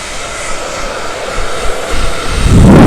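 A blow dryer used while doing hair runs with a loud, steady broadband whoosh that swells louder toward the end, close to the microphone.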